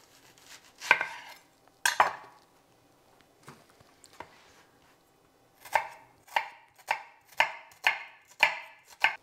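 A knife roughly chopping a medium onion on a cutting board: a few scattered sharp chops, a pause, then a quick run of seven evenly spaced, crisp cuts, close and clear with no talking.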